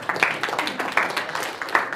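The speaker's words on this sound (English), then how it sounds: "Round of applause again." An audience at a talk applauds, a dense patter of many hands clapping at a steady rate for the full two seconds, fairly close and even in loudness.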